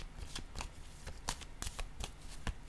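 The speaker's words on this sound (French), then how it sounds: "Je vais déposer une autre carte." Tarot cards shuffled and laid down on a surface, a soft, close riffling with a steady run of light slaps and flicks, quiet and alone.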